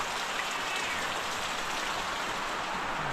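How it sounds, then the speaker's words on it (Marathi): Steady rain falling outside during a sunshower, a continuous soft hiss of drops on surfaces with no talk, even and moderately faint throughout. "बाहेर पाऊस पडतो"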